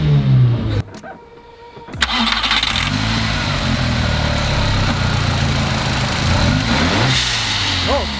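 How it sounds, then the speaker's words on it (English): A turbocharged car fitted with a hybrid diverter blow-off valve starts and revs up close by, a loud rising engine roar with rushing air and whooshing noise sustained to the end. "Rev it up."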